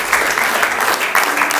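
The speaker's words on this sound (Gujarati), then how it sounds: "અત્યારે તમે તાળી વગાડીને માહોલ ક્રિએટ કરી શકો છો." An audience at a Jain wedding procession celebration in Mumbai claps in a brief, steady burst of many hands, close and fairly loud.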